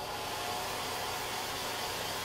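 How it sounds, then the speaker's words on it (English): A hair dryer blows steadily, a constant close airy roar with no pauses. "I'm going to take a hair dryer to it"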